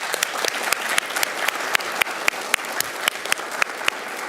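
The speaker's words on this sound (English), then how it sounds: "Please join me in giving them a great big round of applause" Audience at a Duncanville ISD school board meeting giving a round of applause, moderate crowd clapping with distinct individual claps cutting through a steady wash for about four seconds.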